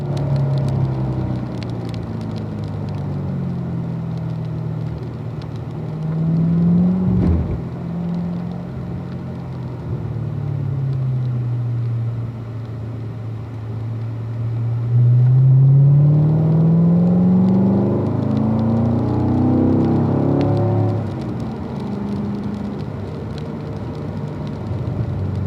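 A race car engine drones steadily on a track, with its pitch rising and falling as the throttle is eased on and off through a set of esses, heard from inside the car with no talking.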